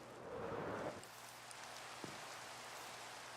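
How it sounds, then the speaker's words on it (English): Steady hiss of rain falls in the video game Minecraft, an even wash of noise with a brief louder swell near the start and one faint low thump. "We do not like the rain."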